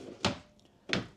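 Two dresser drawers without soft-close slides shut in a 2025 Jayco Pinnacle 38FBRK RV, each giving a sharp, close wooden thunk, the second following a little over half a second after the first.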